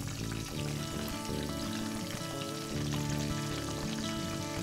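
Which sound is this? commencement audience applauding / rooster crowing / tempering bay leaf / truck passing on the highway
tempering bay leaf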